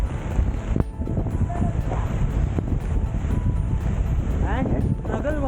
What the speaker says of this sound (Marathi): वारा किती फास्ट आहे.